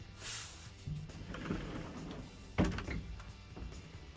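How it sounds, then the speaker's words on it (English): Wooden sliding door in a camper's kids' room rolling open and shut, a soft rumbling slide followed by a clear thunk near 2.6 seconds, close by with light handling noises and no talk. "It's got a wooden sliding door. It slides open and closed."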